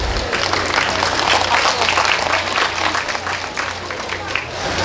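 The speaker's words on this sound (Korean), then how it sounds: "여러분 박수로 환영해 주시기 바랍니다." An audience at the opening ceremony of the 2023 Yeongdong Grape Festival applauds to welcome a speaker, a dense, steady clapping from a sizable crowd that fades slightly toward the end.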